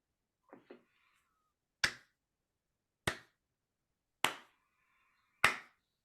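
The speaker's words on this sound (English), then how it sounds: "I've never seen someone slow clap while holding a cigarette at the same time." A slow clap from someone holding a cigarette: four sharp, isolated claps spaced about a second apart, each crisp and fairly close in a quiet room, preceded by two faint soft taps.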